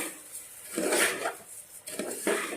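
Rice being stirred and lightly fried in a pan for spring onion rice, heard as a few short metallic scrapes and clinks of a utensil against the pan, coming in brief bursts with small gaps between them.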